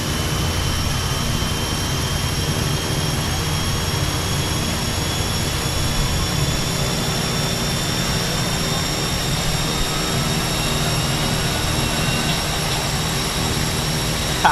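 A Twin Otter in Microsoft Flight Simulator with one engine already roaring while the first engine starts; a loud, steady turbine drone with a whine fills the whole stretch and hides any spool-up.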